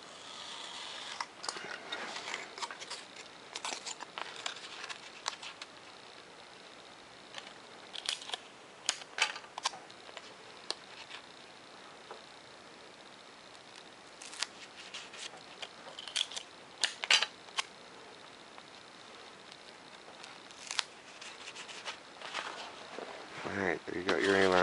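Scissors and a blade cutting foam parts for a micro MiG-29 model airplane, including back-cutting a 45-degree edge on an aileron, giving scattered sharp close snips and ticks over quiet room tone.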